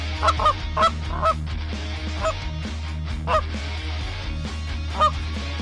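Canada geese honking as flock after flock flies over Kansas, several scattered honks at moderate distance above a steady low rumble, with no talking.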